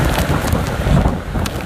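Howling hurricane-force wind inside the eyewall of Hurricane Michael, a loud, continuous roar of buffeting gusts and microphone-battering noise with no voices.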